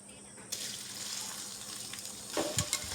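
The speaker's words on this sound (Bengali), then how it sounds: "পেঁয়াজটা একটু ভেজে নিব।" Chopped onion frying in a pan for chicken khichuri, a soft sizzle that swells when the onion hits the oil, followed by faint stirring clinks and scrapes close by.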